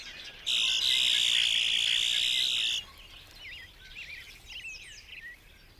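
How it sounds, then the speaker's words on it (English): Male red-winged blackbirds sing in spring to mark territory: one loud, sustained buzzy trill rings out near, followed by softer scattered chirps and whistles against a quiet marshy background. "male red-winged blackbirds stake out their territory in song"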